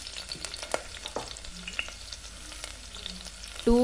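Two green chillies and biryani spices hit hot oil in a pan for mutton biryani, crackling and sizzling close up with scattered stirring scrapes and a clunk at the end.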